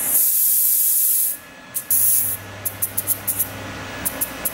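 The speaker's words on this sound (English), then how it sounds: "Screw your shark pump to it, and then slowly bleed off your air." Air hisses as it is slowly bled from a DB Air mountain bike shock valve through a screwed-on shock pump: a loud steady rush for over a second, a brief renewed burst, then a string of short sharp puffs.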